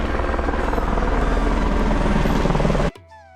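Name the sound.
helicopter flying for the Char Dham pilgrimage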